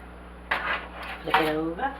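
Baked BBQ ribs flipped in a pan: a few clattering metallic knocks and scrapes of tongs or utensils against the pan, close and moderately loud in a quiet kitchen.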